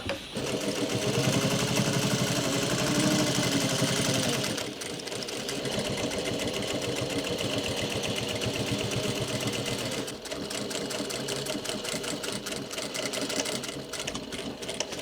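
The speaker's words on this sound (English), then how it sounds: "What I'm doing whilst I'm stitching along this edge is I'm doing a really small seam allowance." A sewing machine runs fast, stitching a narrow seam along the edge of dungarees fabric. Its dense mechanical whir holds close and loud, with a brief slowdown and change in tone partway through before it carries on stitching.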